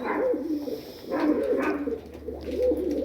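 Several pet pigeons coo steadily in low, throaty, overlapping phrases while being fed, close and fairly loud with little else around.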